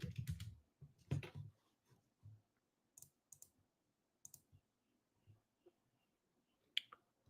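A computer keyboard is typed on to enter a stock ticker: a few close clusters of key clicks early, then sparse single taps scattered across a quiet stretch.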